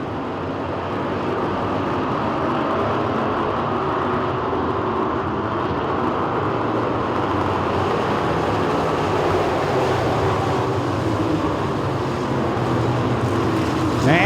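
Street stock race cars thunder around Talladega Short Track, a steady, loud, continuous engine roar from the pack with a commentator talking over it throughout.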